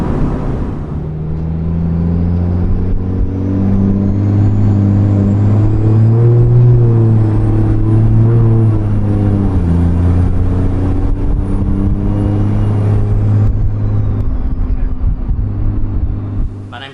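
Cummins diesel pickup with an S300 turbo pulling away at about 30% throttle after a downshift to fifth gear, a loud close engine drone rising and falling through steady harmonic rumble, with a faint turbo whine above.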